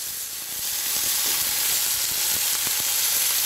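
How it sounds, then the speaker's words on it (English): Beef searing in hot butter in a duchy pan, a steady broadband sizzle and crackle with scattered pops, loud and close, rising slightly after the first half second, with no talk. "Sear it off on both sides."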